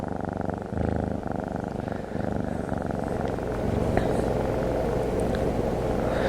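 A cat purrs steadily and up close for the whole stretch, a continuous low rumbling drone with slight pulsing and no talk over it.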